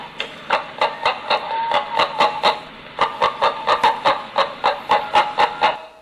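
Rapid rhythmic clucking bursts, close and loud, in two runs separated by a brief pause, closely mimicking a hen; made by a cup rather than a bird.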